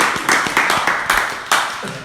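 An audience claps in a short burst of several loud, close, spaced claps, with no talking.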